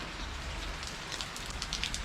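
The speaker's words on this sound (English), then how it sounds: "when you have the kind of rain that we're having, here's my runoff on the out of my top." Heavy rain pours off the top of an RV parked at a beach, a steady dense hiss of runoff and splashing drops, loud and continuous without voices.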